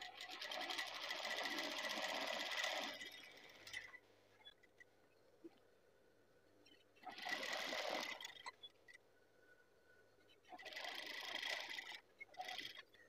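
A sewing machine runs straight stitching along a hand-drawn Pekalongan batik shirt collar in three steady bursts, with pauses between them. The mechanical whir is close and even, with no talk.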